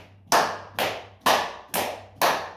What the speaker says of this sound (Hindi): ताली भी बजा सकते हैं,